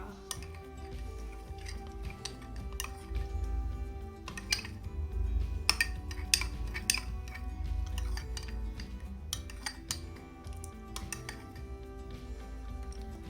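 A metal spoon stirs organic honey together with lemon in a small bowl for a face mask, making light, irregular clinks and taps against the dish. The sounds stay close and quiet over a steady low background.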